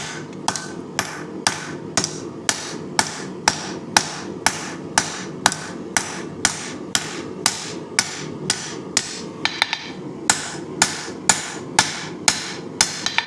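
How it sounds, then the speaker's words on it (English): Steady, evenly spaced hammer blows forge the tip of a steel knife blade, about two strikes per second, loud and close with a bright metallic clang and no voices. "I like to keep on flipping over and hammer evenly on both sides when I do this"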